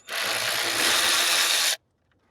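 Steady whir of a power tool running continuously for under two seconds, then cutting off abruptly, while a fan bolt is removed from a 2006 Subaru STI during a water pump and timing belt job.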